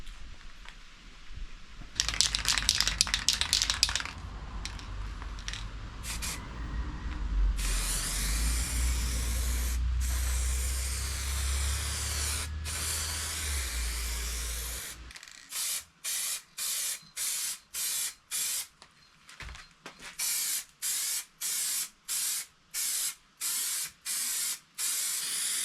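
A car's rust-treated front wings are resprayed with an aerosol can: short hissing bursts, then a long steady spray, followed by a rapid series of brief, evenly spaced spray pulses, close and clear with no talk.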